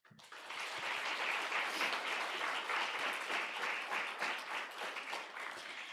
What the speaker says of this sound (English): Please give another round of applause to the graduates who received their white coat, as well as to those who received awards.